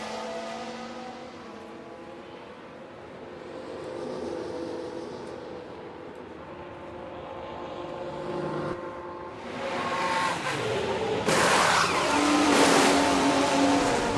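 F1 race cars pull into the pit lane at the Lusail circuit in F1 Manager 24, a steady engine drone and whine building in intensity with harsh, louder mechanical noise in the final seconds.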